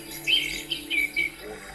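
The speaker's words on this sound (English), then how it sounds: "Just tap the top for birds," Bird chirping sound played from a Hatch Mini sleep machine speaker, a few short bright chirps in quick succession, fairly quiet and close, with no talking.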